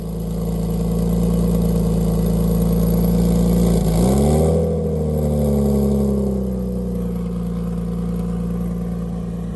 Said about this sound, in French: je vais les remettre et je vais démarrer sans le downpipe